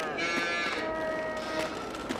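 A single cow in a farming video game lets out a drawn-out moo, close and clear, lasting a couple of seconds.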